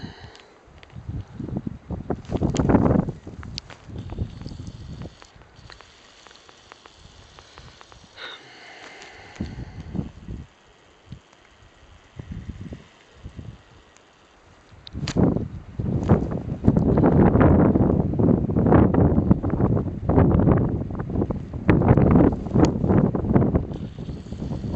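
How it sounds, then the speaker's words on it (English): Strong wind gusts across a frozen lake at Fourmile Lake, roaring and buffeting the microphone with blowing snow, quieter in the first half then loud and sustained from midway, with an iceboat on a windsurfing rig sailing in high wind. "very windy, a lot of snow blowing up off the lake"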